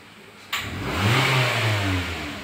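A 2021 Mitsubishi Xpander engine idles, then revs up sharply with a sudden burst and holds a rising, throaty roar before easing slightly; no talking.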